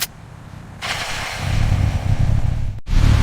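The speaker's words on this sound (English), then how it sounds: "The engine starts with a smooth and refined sound." A Honda Rebel 500 with a 471cc parallel twin engine fires up nearby, a quiet idle first, then a rise in loudness as the motor catches and runs steadily, with a brief cut near the end.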